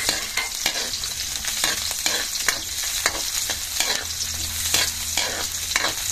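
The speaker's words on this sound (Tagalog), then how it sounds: "Lalagay na po natin yung ating rekado, bawang sibuyas. Pinagsabay na po natin mga kabayabas." Garlic, onion and guava sautéing in a pan, a loud close sizzle under repeated rhythmic stirring scrapes of the spatula, continuous and without talk.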